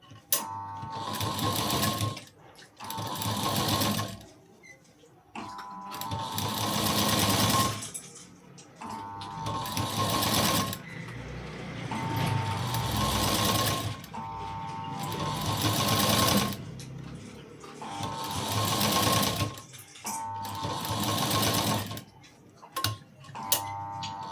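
A sewing machine stitches cord piping onto a fabric patch in repeated loud bursts of rapid mechanical rattling, each run lasting a few seconds with brief pauses between, close to the listener.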